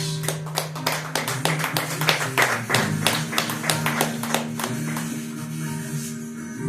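A church congregation claps together during a service, with rhythmic, fairly even clapping repeated over several seconds, accompanied by soft sustained musical tones underneath.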